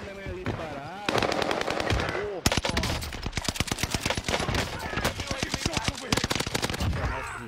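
Rapid bursts of automatic gunfire crackle through a video game firefight, dense repeated volleys with brief pauses, while players talk over the action.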